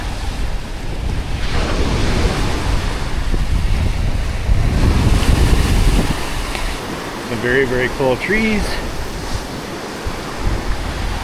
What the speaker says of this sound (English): Waves crashing at the right.